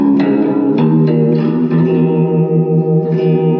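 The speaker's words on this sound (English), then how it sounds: "The next one is a Keeley Electronics Verbatrem. So it's a reverb and a tremolo." Clean electric guitar notes through a Keeley Electronics Verbatrem reverb and tremolo pedal ring out with a lush, washy reverb and a gentle pulsing wobble, sustained chords fading into a haunting tail, no voices.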